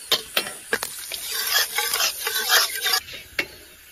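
Lard melting and starting to sizzle in a wok before garlic and chilies go in, with a steady hiss broken by sharp scrapes and clatters of a metal spatula against the wok, close and fairly loud.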